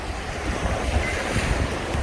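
Surf rolls onto Koka beach in Flores, a steady roaring wash of breaking waves mixed with gusty wind buffeting the microphone, continuous and fairly loud, with no voices.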